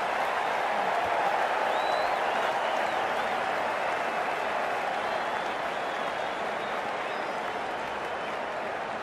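Stadium crowd at an IPL cricket match between KKR and DC, cheering and applauding in a loud, dense, continuous roar of clapping and voices that holds steady throughout.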